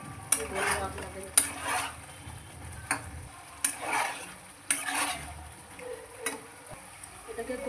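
Bata fish stir-fried in spices for tel jhal: a soft, steady sizzle in the pan, broken by repeated scraping clicks of a spatula at irregular intervals.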